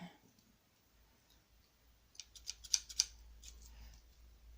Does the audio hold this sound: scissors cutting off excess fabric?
yes